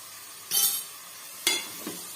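Two brief scraping sweeps of a utensil through a carrot rice mixture with turmeric in a pan, with a faint third stroke at the end over a soft background sizzle.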